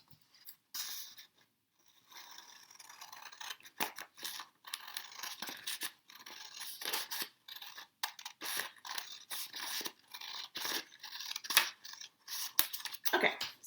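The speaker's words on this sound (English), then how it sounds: "Then I can cut off this edge and that will leave me with this square piece of paper." Scissors snip through a sheet of paper in a series of short, crisp cuts with brief pauses, close and clear, with rustling of the paper between snips.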